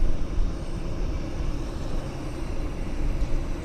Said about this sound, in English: we've got a King Air departure